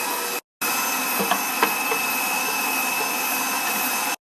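An electric meat grinder runs steadily while lamb sausage is made, a loud, continuous motor whine broken by one brief pause, with faint knocks as bread is fed through.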